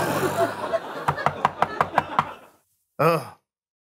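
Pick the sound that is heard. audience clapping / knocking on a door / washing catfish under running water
knocking on a door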